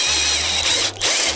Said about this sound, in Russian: Тоже засверливаем ступенчатым сверлом.